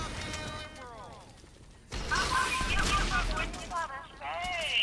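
Gunfire in GTA V, a burst of loud shots and mechanical clatter in the middle of the clip, mixed with other game sounds and a voice talking.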